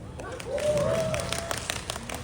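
An audience at a third-album showcase applauds in a soft, continuous patter of many hands while a person keeps talking over it, the clapping staying low beneath the voice.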